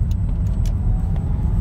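Car with a lithium battery accelerating flat out in third gear, heard from inside as a steady, loud low rumble of engine and road noise that holds constant throughout.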